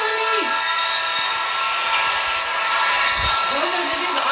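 A train approaches through a tunnel in a video game, a steady loud rumbling roar with faint whistle-like tones at the start and end, as players talk over it.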